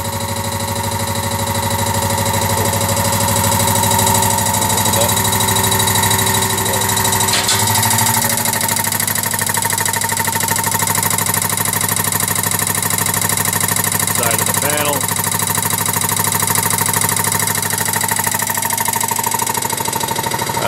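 US Filter 25 cubic foot air over hydraulic filter press, model FP2224, closing and building pressure: a loud, constant mechanical drone with a rapid pulsing rattle and a few brief clunks.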